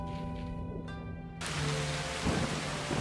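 Torrential rain and thunder in the Shiren 6 dungeon game, with steady heavy rainfall and a sudden loud thunder crash rolling on, no speech.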